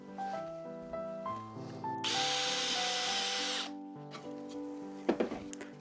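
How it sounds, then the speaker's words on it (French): A power drill boring into wood with a second, larger bit to recess a screw head, a loud steady whine lasting about two seconds mid-clip, framed by quieter handling noises and tonal hum before and after. "je vais continuer avec ma seconde mèche"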